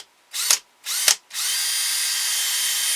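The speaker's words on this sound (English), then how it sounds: "we're going to drill a hole for our screw." A power drill bores a hole for a screw in the wooden head of a carved ventriloquist dummy: two short close bursts, then one steady, continuous whine of drilling, with no talking.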